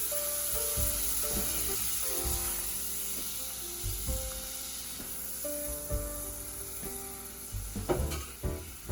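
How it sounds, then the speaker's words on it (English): A cup of butter melts in a hot pan on the stove, a steady soft sizzle with a few scraping stirs, for a Caribbean coffee rum cake, with tonal background music running under it throughout. "melt your butter in your pan here"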